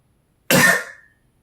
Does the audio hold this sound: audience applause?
no